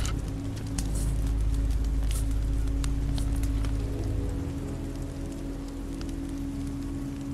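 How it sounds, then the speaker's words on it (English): Steady rain pours down in The Walking Dead game, a dense continuous hiss with a low rumbling bed and a few sharper drip taps over the full length, with no one talking. "This rain will turn to sleet. Then ice. Then snow."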